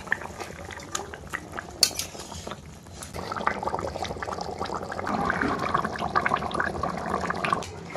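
Fish from a village pond go into simmering potato curry in a pot, bringing clinking of utensils against the pot, then steady bubbling and sloshing that grows louder toward the end, close by and without speech.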